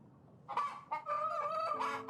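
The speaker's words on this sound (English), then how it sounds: "It's a black rooster." A black rooster crows once, a medium-loud cock-a-doodle-doo rising and holding, with a clucking lead-in and a low room hum beneath.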